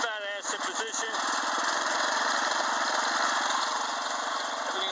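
A vehicle engine runs steadily and loudly while pulling a 6x10 Stillwater landscape trailer across damp grass, a continuous droning rumble with a throbbing pulse throughout.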